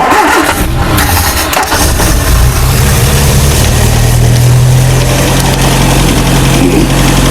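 A 1968 Commer 2500 van engine cranking and catching on heavy choke, then running loud and close as a rough low idle settles into a steady drone.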